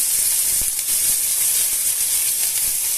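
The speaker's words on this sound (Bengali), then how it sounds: "পাতা জিরা ফোড়ন দিয়ে নিলাম তেলে এখন একে একে দিয়ে দিব পেঁয়াজ বাটা" Onion paste sizzles in hot oil seasoned with bay leaf and cumin, a steady loud crackling hiss running throughout with no voices.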